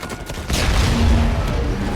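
Gunfire in the video game Uncharted 4: after a quieter opening, a loud, dense burst of shots and booms erupts and keeps rolling without a break.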